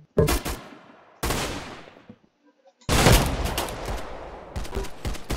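Bursts of gunfire from a gun in the Roblox-style shooter Arsenal, free-for-all mode: three loud rapid bursts separated by brief pauses, close and dominant, with no talk over them.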